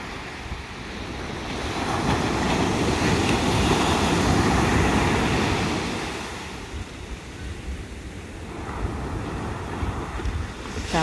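Ocean surf rolls in at a California beach, a loud, continuous wash of breaking waves swelling and fading, with cold evening wind buffeting the microphone throughout.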